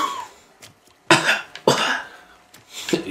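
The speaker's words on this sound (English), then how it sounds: "Oh, it's just them coughing." Game characters coughing in The Last of Us Part II: several harsh coughs in separate bursts, near and fairly loud, with quieter gaps between them and no speech.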